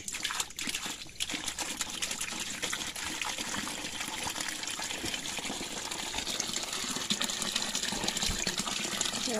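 Tap water runs and splashes steadily while cassava is washed by hand, a continuous close gushing trickle with small irregular splashes throughout.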